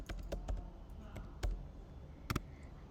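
Fingers tap C code on a computer keyboard in quick, uneven clusters of clicks with a few louder strikes, close and dry, with no talking.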